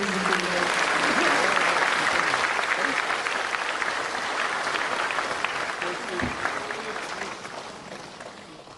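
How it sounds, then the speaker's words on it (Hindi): Loud, dense applause from a large audience for the President at a national water awards ceremony, a steady roar of clapping that holds throughout and tapers slightly near the end. "बस जोरदार तालियां माननीय राष्ट्रपति जी के लिए।"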